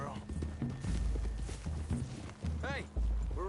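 Horse hooves clip-clop at a walk through trees in the Red Dead Redemption 2 game world, with a brief neigh near the end, heard under steady talking voices throughout.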